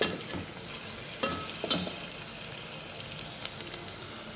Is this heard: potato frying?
yes